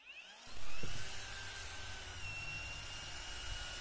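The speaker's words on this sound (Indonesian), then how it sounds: "gerindanya saya nyalakan di speed 3 ya" A cordless angle grinder on a Kamolee 18V 5Ah battery spins up at speed setting 3, a sharp whine rising quickly and then holding a steady high-pitched running tone, close and alone.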